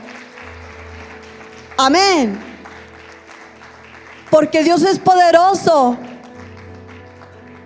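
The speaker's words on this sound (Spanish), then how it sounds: "Dale un fuerte aplauso" A church congregation keeps up soft, continuous applause under a preacher's loud, emotional speaking, which comes in two impassioned bursts over the steady clapping.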